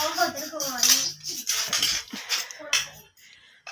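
Macaroni dished out onto plates for a group of children at home, with spoons and dishes clinking and scraping in quick, irregular bursts while people talk close by.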